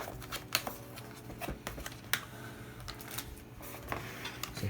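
Stabilizers on a budget custom mechanical keyboard are tested with a run of light, quiet clacks and rattles. The taps come irregularly, close by, with no talking.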